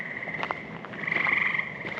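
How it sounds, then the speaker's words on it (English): Many frogs croak at night beneath the Middle Road covered bridge in Northeastern Ohio, built in the late 1800s. A dense, steady chorus swells in the second half, with sharper individual calls popping through. "And you can hear frogs."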